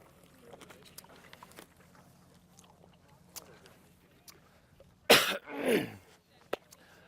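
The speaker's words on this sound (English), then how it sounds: "I have a little cough going on, so I'm going to cough about 50 times" A person coughs twice in quick succession, close and harsh, after several seconds of faint rustling and quiet shuffling.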